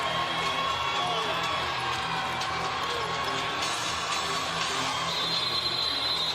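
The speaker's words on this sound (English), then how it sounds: "My goodness, is the crowd rowdy." A rowdy crowd at a high school boys basketball semifinal in Alabama, Fairfield against Valley, makes a constant dense roar of cheering and shouting that fills the gym without a break.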